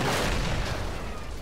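A robot blows up in the video game Generation Zero, a loud, rumbling blast that fills the clip and slowly tails off.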